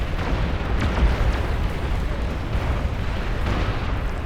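Massive real-time strategy battle in Beyond All Reason with pawn launchers firing, a continuous rumbling wash of overlapping explosions and booms, some sharper blasts standing out, heard without any talk.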